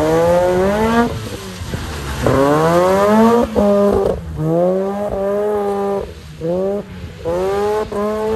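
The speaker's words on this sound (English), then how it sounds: "that's drifting on a wet skid pan donut in an RX8 for you" Mazda RX8 rotary engine revving hard while drifting donuts on a wet skid pan, loud rising and falling engine notes repeating in surges, close and continuous, with no talk.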